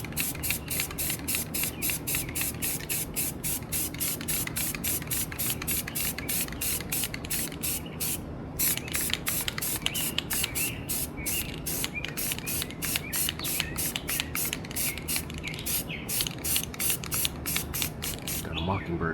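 Rust-Oleum spray paint hissing from an aerosol can onto a guitar body in rapid, regular short bursts, a steady close stream of spitting sprays over low background noise with no talk.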